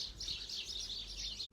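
Wild birds in a garden chirp in a steady, bright twittering stream that runs for over a second before cutting off abruptly, with no talk over it.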